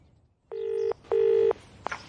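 Two long touch-tone beeps and a shorter one as a telephone number is dialed indoors, clear and close with brief gaps between tones and no talk.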